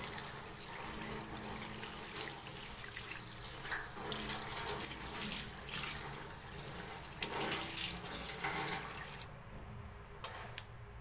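Running tap water splashing steadily into a sink while milkfish is rinsed before seasoning, with the flow cutting off near the end and a small clink after; fairly quiet, no speech.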